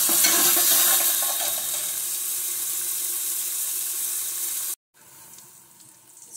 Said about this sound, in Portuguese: E vamos deixar fritar